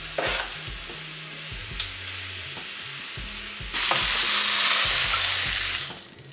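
Peppers frying in a pan for a vegan brunch, a steady close sizzle with scraping stirs and clacks, swelling into a louder, denser hiss partway through before easing off at the end.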